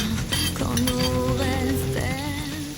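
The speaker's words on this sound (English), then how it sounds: "Once this butter has melted, make sure the pan is coated. And add your chopped onion." Chopped onion sizzling in melted butter in a pan: a steady frying hiss runs throughout at close range, with faint clinks of utensils against the pan.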